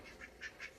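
Three quick, faint quacks from a duck, close together in under a second, with no talk.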